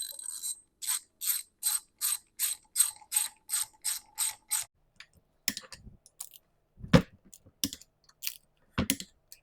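A torque wrench tightening the bolts of a Classic Mini gearbox differential: a rapid regular run of about a dozen sharp ratchet clicks, then a pause and a few separate clicks and a metallic clunk, close and clear.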